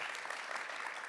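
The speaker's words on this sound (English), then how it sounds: "I want to give a warm round of applause, please, to welcome Sophia and Antonio" Audience applause welcoming speakers at an urban planning conference, a brief steady wash of clapping heard faintly and at a distance.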